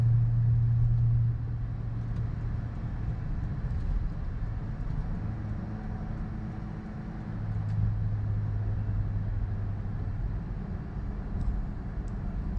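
A car cruises along the Surabaya–Malang toll road, heard from inside as a steady low engine and road drone that rises slightly at the start and then holds at an even level, with no voices.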